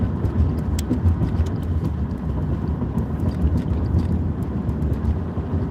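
Car driving along a road, a steady low rumble of engine and tyre noise with some wind buffeting at the microphone, continuous throughout, with no talking.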